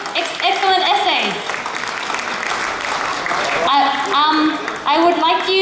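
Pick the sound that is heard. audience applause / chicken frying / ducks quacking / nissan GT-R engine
audience applause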